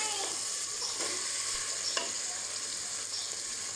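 Meat sizzles and browns in a pan while cooking for chana dal with bottle gourd, a steady close frying hiss with occasional scrapes and stirs of a utensil against the pan.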